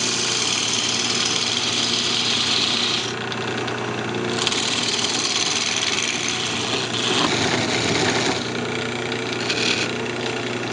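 A redwood Christmas ornament is parted off on a wood lathe: a steady, loud motor hum and whirr with a continuous scraping cutting noise over the full stretch, with no voices.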